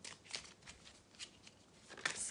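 A deck of 77 oracle cards is shuffled by hand in several quick riffling bursts, soft and close with short pauses between, no voices.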